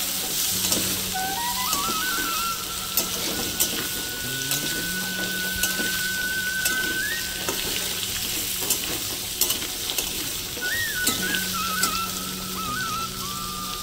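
Cut potatoes frying in oil with panch phoron, a steady close sizzle with frequent stirring scrapes and clinks of a utensil; a faint whistling tone drifts in the background and no one speaks.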